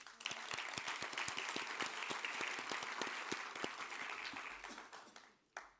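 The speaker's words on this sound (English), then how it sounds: "a warm round of applause for Elsie McCabe" A gala audience applauds warmly, with dense, steady clapping that fills the room without a break and tapers off near the end. No voices are heard over it.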